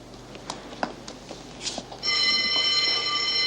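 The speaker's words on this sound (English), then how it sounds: "Calm down. It's only the lunch bell." A prison lunch bell suddenly rings loud and steady after a stretch of quieter scattered background noises, continuing to the end.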